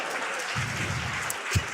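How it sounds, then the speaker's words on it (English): A live festival audience in New York claps during a podcast taping, with a brief burst of applause that is fairly loud and close. "We're all applauding this."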